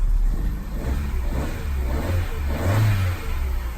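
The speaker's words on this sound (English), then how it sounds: "We give it a little rev. Let's listen to the engine noise." A used car engine with 147,000 miles revs up close, rising and falling in a few throaty bursts over a steady idle.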